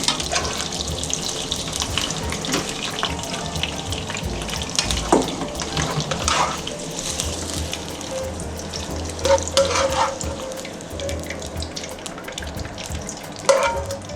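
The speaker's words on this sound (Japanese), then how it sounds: "はい、こんな感じでもう揚げていきます。" Shrimp for shrimp chili fry in hot oil, a dense continuous crackle with scattered pops and utensil clinks, close and busy, with no talk over it.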